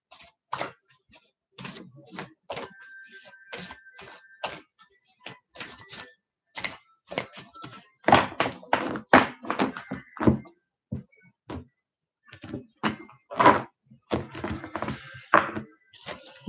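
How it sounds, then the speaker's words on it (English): Cards from an oracle deck are shuffled and pulled by hand, giving crisp irregular taps, flicks and slaps in short clusters with gaps between, close and fairly quiet, with no other sound behind them. "I'm going to pull some cards from the Mirror Love Oracle deck for you"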